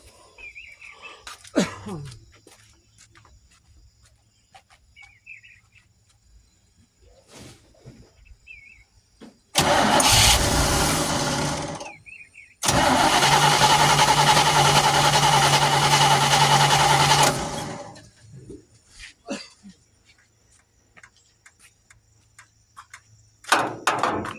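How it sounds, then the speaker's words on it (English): A car engine fitted with a Chinese Holley carburetor cranks with a steady whirring starter for a few seconds, stops, then cranks again at length and roars into running before cutting off; quiet surroundings between. "we want to crank over the engine and see if we can't get gas up into this float"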